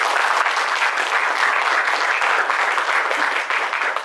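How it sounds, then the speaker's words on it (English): At a college student art awards ceremony, the seated audience gives sponsors a sustained round of applause, loud and close, dense clapping holding steady throughout and trailing off slightly at the end. "So we want to give them applause."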